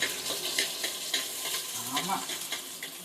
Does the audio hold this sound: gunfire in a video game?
no